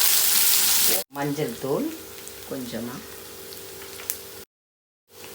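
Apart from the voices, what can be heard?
chopped onion frying in a pan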